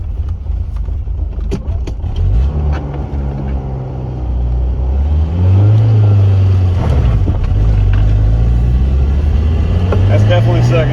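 A 1983 Plymouth Turismo's engine drones from inside the car while driving. The engine note climbs in pitch, drops at a gear change and then rises again under steady road and wind noise.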